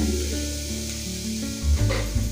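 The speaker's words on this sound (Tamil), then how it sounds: "ஒரு 2 நிமிஷம் நல்லா இந்த வெஜிடபிள்லாம் நல்லா ஃப்ரை பண்ணிக்கோங்க" Vegetables sizzling in a pan for soup, a steady crackling fry with a brief stir or scrape near the end, close and moderately loud, no voices.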